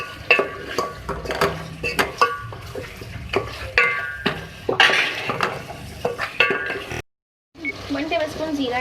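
Beef is stirred with Kashmiri red chili powder in a pot, giving repeated scraping clinks of a spoon against metal over a soft sizzle, with someone talking in between.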